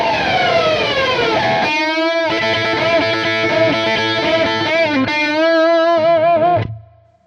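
Heavily distorted electric guitar plays a repeated, rhythmically shifting lick, loud and sustained with a bright buzzy tone, then fading out at the end; no talking.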